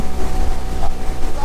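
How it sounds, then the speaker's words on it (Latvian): Strong wind buffets a small fishing boat out on the water during a pike-perch fishing competition near Riga, a loud steady roar of gusting wind noise with the engine rumbling underneath. "Vējš ir maksimāls."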